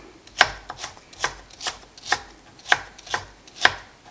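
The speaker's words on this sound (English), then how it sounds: "So you just want to chop it fine cubes." A knife chops a carrot into small cubes on a kitchen board: a steady series of crisp, evenly spaced blade strikes, close and clear, with no talking.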